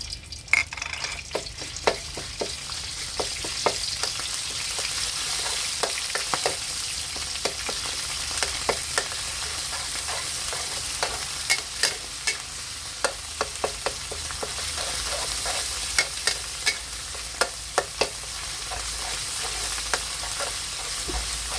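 Thai curry paste stir-frying in hot oil for pork, a constant close sizzle broken by frequent rhythmic clacks and scrapes of a spatula against the pan, with no talking.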